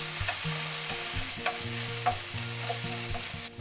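Kimchi and bacon sizzle steadily in a frying pan while a utensil stirs and scrapes in short, irregular strokes, close up, with no voices.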